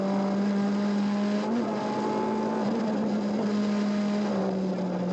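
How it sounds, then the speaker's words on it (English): A Colm Quinn Mini rally car drives flat out on a traditional Irish stage at the Galway International Rally, its engine a loud, steady, high-revving drone with small pitch dips at gear changes. "going on board the Mighty Mini for the first time on a traditional Irish stage"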